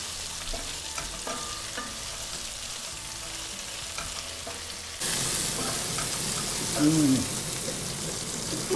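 Mushroom stems frying in oil in a pan, a steady sizzle that grows louder as they hit the oil, with stirring clatter and a voice speaking briefly.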